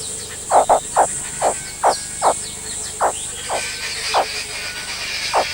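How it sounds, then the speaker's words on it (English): Strange croaking calls in early March: about ten short, evenly spaced croaks, fairly loud and close, repeating at a steady rhythm over a faint background hiss. "In early March, strange croaking sounds fill the air."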